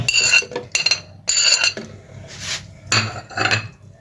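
Garlic and seven green chillies tipped into a cooking pot for chicken karahi, a few close clattering knocks of metal utensils against the pot in short bursts, with no talking.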